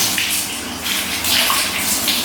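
Water pours steadily and continuously for a makeshift do-it-yourself shower with no real shower fixture, a broad splashing gush like a filling tub, close and fairly loud, with no voices.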